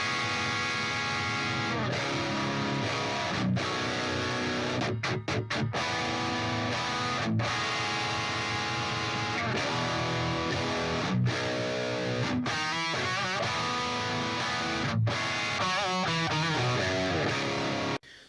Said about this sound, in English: So that is just a Marshall JCM 800 turned up really, really, really loud